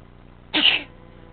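One short, sharp sneeze from a person at a bedtime setting, close and fairly loud, over quiet room background.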